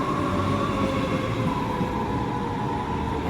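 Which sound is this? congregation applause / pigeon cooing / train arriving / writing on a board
train arriving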